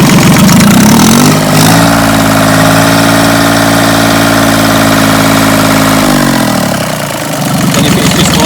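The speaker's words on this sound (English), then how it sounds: "And if I rev the engine, the water coming out." A yacht engine running during freshwater flushing for winterising, loud and close, idling before its speed is raised into a sustained steady revving for several seconds, then easing back down toward idle.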